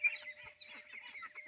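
Sick ducks, survivors of an outbreak that killed over fifty costly ducklings, give a flock's quacking, honking calls in short overlapping bursts, moderately close.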